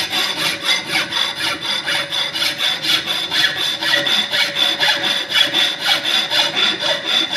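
Hand filing of a metal workpiece in a fitting shop, steady rhythmic rasping strokes back and forth, loud and close throughout with no voices.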